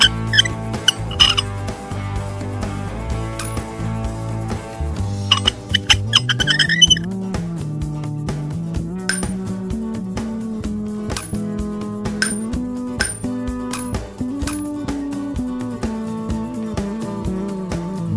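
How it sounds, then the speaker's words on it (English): Bright metallic clinks and ratchet-like ticks come from a wheel wrench loosening the bolts on a cartoon monster truck's wheel, spaced in a regular sequence over soft background music. "We will unscrew the bolts with a wheel wrench and remove the wheel."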